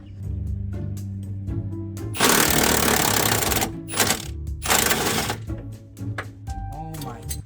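A swivel-jointed wrench cranking a bolt on an old truck, bursts of loud rapid ratcheting and clicking between pauses, with someone talking in between.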